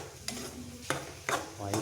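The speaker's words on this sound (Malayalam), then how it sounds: "മുളക് പൊടി, അര സ്പൂണ് മല്ലിപ്പൊടി എന്നിട്ട് വഴറ്റി ഇങ്ങനെ പോയിക്കൊണ്ടിരിക്കുക" Spices such as chilli powder and coriander powder being sautéed in a frying pan, a steady sizzle broken by several scraping stirs of a spoon, close and alone without talk.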